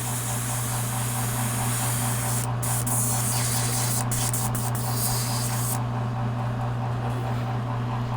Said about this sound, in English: Get my airbrush and clean out any thinners I may have in there.